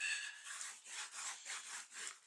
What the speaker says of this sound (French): je retourne et je frotte un petit peu